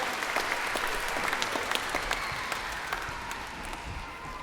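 Audience applause for Andrew at a live children's orchestra concert: steady, dense clapping from a crowd filling the space, holding at an even level throughout with no voices over it.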